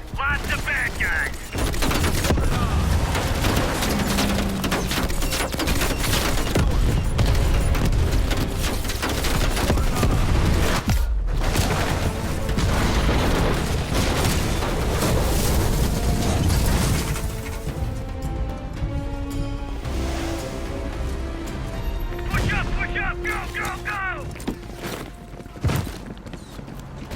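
Sustained gunfire from the Call of Duty: Black Ops Cold War campaign: loud, relentless bursts of automatic fire, booms and explosions, with a brief lull midway and mechanical clatter toward the end, under occasional shouted voices.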